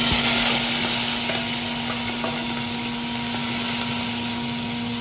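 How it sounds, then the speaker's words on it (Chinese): Seasonings dropped into hot oil in a wok, about to be joined by napa cabbage stems, give a loud, continuous, close sizzle that holds steady throughout with no talk over it. "油热了之后呢， 就放这些调料"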